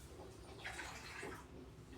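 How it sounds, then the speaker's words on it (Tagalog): About a cup of water pours steadily into a container while carrot and banana juice is being made. The pour is a soft, continuous watery splash, fairly quiet and even, heard alone without talk. "Lalagyan muna natin ng tubig."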